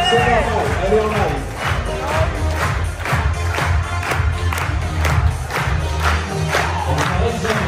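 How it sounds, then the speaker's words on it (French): A convention audience applauds and cheers loudly and steadily, with claps, shouts and crowd noise filling the whole stretch. "On peut l'applaudir très très fort."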